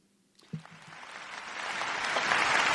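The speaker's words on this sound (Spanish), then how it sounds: "Ahí están los aplausos." An audience bursts into applause after a brief opening thump, the clapping building steadily and growing fuller and louder to the end.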